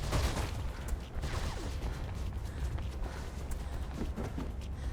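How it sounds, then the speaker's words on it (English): Flashbang grenade going off in the video game Mirror's Edge, a dense, sustained roar of noise and rumble without any distinct sharp onset, steady and loud for the whole stretch with no speech. "Flashbang!"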